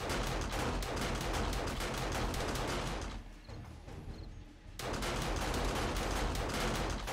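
Rapid gunfire in the zombie survival game 7 Days to Die, dense automatic shots rattling nonstop, breaking off for about a second and a half before the heavy firing resumes just as loud.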